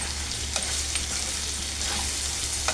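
Salted bitter gourd curry stirred in a pan, a continuous sizzling hiss with a few soft scraping strokes, close and steady throughout.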